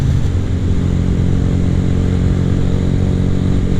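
A Honda Grom motorcycle on the road with a steady, loud engine drone and heavy wind rumble throughout, no clear gear changes, ridden on the way to the gym in cool September air.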